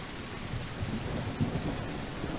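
Thunder rumbles low and steady under constant rain in The Isle video game, a dinosaur survival game. The rain hisses in the background and there are a few soft bumps.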